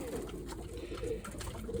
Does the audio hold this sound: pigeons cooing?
yes